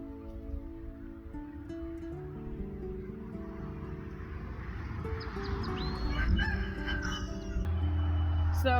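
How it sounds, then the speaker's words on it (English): Free-range chickens cluck and a rooster crows amid outdoor garden ambience, with steady background noise and occasional rustling; no clear speech. "the free-range chickens are also really enjoying being able to get out and about"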